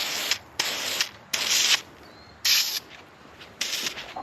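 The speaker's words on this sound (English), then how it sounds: "It's already dry, so I'm just gonna spritz it with a second coat." A spray paint can spritzes a second coat onto a replacement radio antenna for a 2019 Ford Explorer, in four or five short, loud hissing bursts with pauses between them and no talking.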